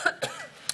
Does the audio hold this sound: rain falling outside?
no